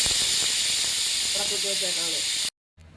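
Coriander and chili powder fry in a hot pan alongside coconut, giving a loud, steady sizzling hiss that cuts off abruptly near the end.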